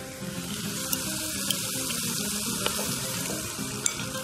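Sweet and sour sauce hitting a hot pan of wilting vegetables, a continuous loud sizzle and hiss with a few small pops and crackles scattered through it, and no talking.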